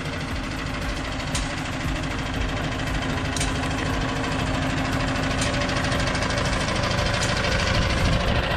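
A Lovol 1054 tractor's 105-horsepower diesel engine runs steadily in a field, a low rumbling drone with a rhythmic knocking, close and loud, with no talking.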